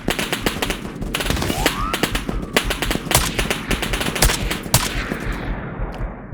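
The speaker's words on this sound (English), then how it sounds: "Literally waiting to see their muzzle flash and firing directly at the muzzle flash, hoping we hit something." Rapid automatic gunfire in the video game Operator: Canoe Club, dense bursts of loud close shots overlapping with more distant fire, continuous through the firefight with brief pauses near the end.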